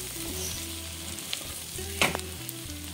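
Boiled potatoes are mixed as they fry in a pan, giving a continuous close sizzle with a low steady hum underneath and a couple of louder scraping stirs near the middle, no voices.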